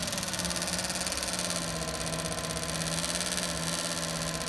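A car windshield wiper motor runs during troubleshooting, giving a steady whirring electric hum with a faint cyclic wobble, close and continuous with no talking over it.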